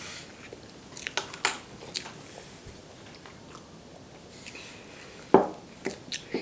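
Soft bites and chewing of rainbow castella cake, close to the mic and quiet, with a few sharper crunchy clicks scattered through otherwise faint mouth sounds.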